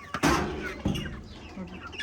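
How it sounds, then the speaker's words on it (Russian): Broiler chickens, mostly young roosters, in a backyard coop give a couple of short clucking and squawking calls at close range over a low background murmur. "Смотрите, они все в основном петушки."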